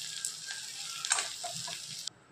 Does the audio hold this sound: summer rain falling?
no